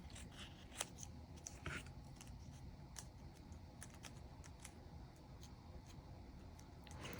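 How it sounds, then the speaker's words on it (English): Scissors snipping through a stack of several sheets of crepe paper, faint repeated crisp cuts spaced irregularly over a steady background hiss, with no talking. "So I'm just going to cut out 3 here in my little stack."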